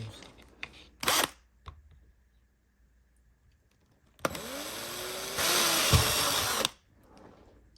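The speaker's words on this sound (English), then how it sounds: "I'm just going to drill a whole heap of holes." Close by, a drill gives a few short clicks and brief spins, then a sustained whirring burst as it bores small holes through material for a 1:18 scale model car lift, stopping abruptly.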